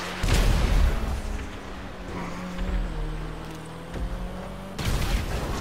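Rumbling booms and crackling blasts from explosions in GTA 5 Online during a race, loud at the start and end, with a low engine-like drone running underneath.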